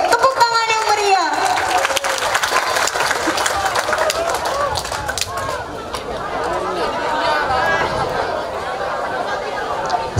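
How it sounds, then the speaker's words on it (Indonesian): Audience applause at a youth literacy camp event in Bangka, a crowd clapping and cheering loudly at first, then continuing as a softer patter mixed with chatter. "Tepuk tangan yang meriah."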